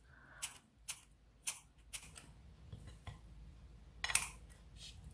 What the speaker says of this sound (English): so now we're just going to cut it up into small pieces